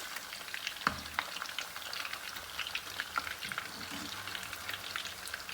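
Beef gola kebabs frying in a pan over a low flame, a soft, even crackle of fine spitting pops with one sharper tap near the start, fairly quiet and close, no speech.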